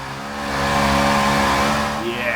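A supercharged Ford Mustang GT350R in the Forza 6 racing game revs hard and steady, its loud, harmonic engine note rising slightly as it powers out of the last corner, with a brief tire squeal near the end.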